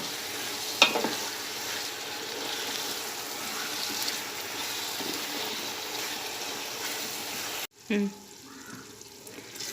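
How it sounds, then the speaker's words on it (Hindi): Tomatoes frying on a full gas flame for mutton biryani give a continuous close sizzle with occasional stirring knocks, broken by a brief gap near the end and a short clatter. "गैस की फुल आंच पर मैं इसे बना लूँ। जब तक ये टमाटर पिघल नहीं जाते"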